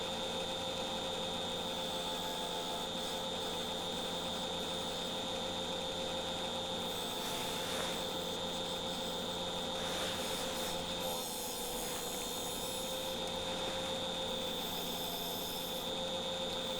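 A lathe turns a foot on a walnut bowl, a steady motor hum with a high whine and soft intermittent scraping of the tool against the wood.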